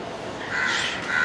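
A crow gives a loud, nearby caw that is harsh and drawn out, rising over a faint background with no speech.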